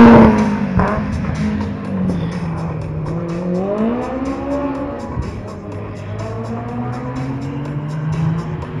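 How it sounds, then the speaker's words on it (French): A Porsche 924 rally car, number 203, pulls away from the start of a rally prologue, its engine revving loudly with rising pitch sweeps through the gears as it departs, close at first and then steady. "Départ pour Jean-Marc et Patricia Mussolini sur leur Porsche 924 numéro 203"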